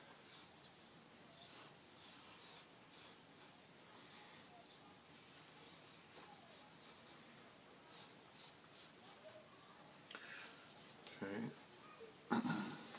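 Side of a number 2 pencil shading on paper, soft rhythmic scratchy strokes in short bursts, faint and close, with no talk.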